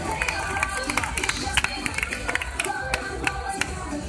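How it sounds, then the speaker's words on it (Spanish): A crowd at a bull-calf event in Paiporta claps for a few seconds, scattered sharp claps over a busy babble of voices, with people talking throughout. "Un aplauso, chiques."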